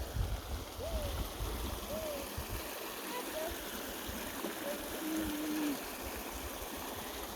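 A stream flows through a ravine near Xecnup, Joyabaj, its steady rushing wash continuous throughout, with a few faint whistled or hooting calls rising over it.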